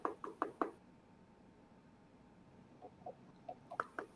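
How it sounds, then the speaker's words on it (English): Knocking on a house door: a quick burst of four raps at the start, a long pause, then a second, softer series of knocks building toward the end, moderately close with no talk. "So you go to his house and you knock."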